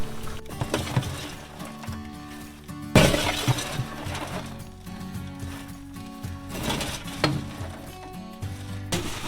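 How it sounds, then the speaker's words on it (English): Hot, freshly made parmesan popcorn tumbles into a 2-gallon Ziploc bag, giving a dense crackling, rattling pour with one loud crunchy burst partway through and steady rustling around it. "we're gonna put that popcorn into this 2-gallon Ziploc bag"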